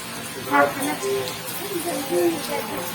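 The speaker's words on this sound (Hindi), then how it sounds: "आप देख सकते हैं कितनी तेज बारिश हो रही है" Heavy evening rain in Vrindavan, India, hisses steadily beneath a man's speech and stays continuous throughout.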